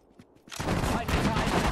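Gunfire in the Sudden Strike 4 World War II strategy game, a sudden loud volley of rapid shots after a quiet moment, continuing as dense crackling bursts.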